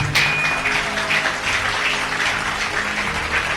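A church congregation claps for Jesus in steady, dense applause that holds at an even level throughout.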